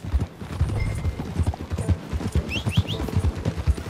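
A horse in the video game Red Dead Redemption 2 walks with distinct clip-clopping hooves in an uneven steady rhythm, close and moderately loud, with a few faint bird-like chirps in the background.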